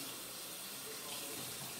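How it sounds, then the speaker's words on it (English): Tap water runs steadily into a real sink for hand washing, a constant, even splashing rush with no break and no talking. "you're going to turn on the cold water, and from there you're going to push it to hot."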